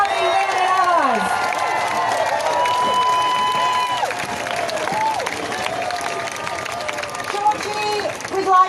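Crowd applause at a Women's March for Justice rally in Canberra, a steady wash of clapping and cheering with voices and shouts mixed in throughout.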